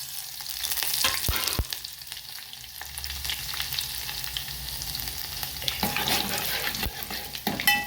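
Garlic and fenugreek seeds frying in hot oil in a home kitchen pan, a steady close sizzle with scattered sharp clinks and scrapes of a utensil against the pan throughout.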